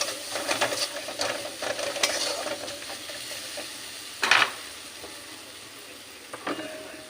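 Ground spice paste sizzling in a pan for a cashew nut egg curry, a low steady fry punctuated by scraping stirs and a couple of sharp clinks of a spoon against the pan.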